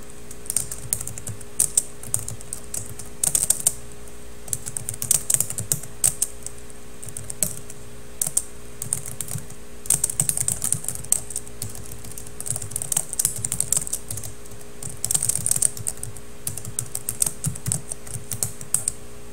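Text typed on a computer keyboard, with a fast, uneven patter of close key clicks in bursts and short pauses over a faint steady hum, with no talking.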